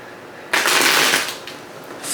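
Tarot cards riffled in a single close, crisp shuffle lasting under a second, rushing then tapering off into quiet, with a faint flick at the end.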